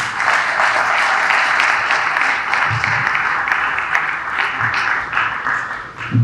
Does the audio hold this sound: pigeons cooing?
no